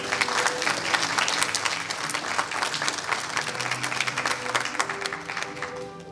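A church congregation at a graduation service gives a full round of applause for a graduate, a dense, steady wash of clapping sustained throughout, with faint voices mingled underneath.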